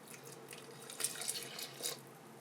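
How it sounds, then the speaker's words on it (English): Cold water poured into the bowl of a Pro Baker 5 Plus pizza dough mixer, a soft splashing trickle with a few brighter splashes, faint and close, with no talk. "And then all of our cold water."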